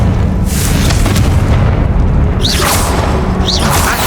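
A Confringo blasting spell explodes in the video game Hogwarts Legacy, a loud, sustained booming roar with rising whooshing streaks through the blast.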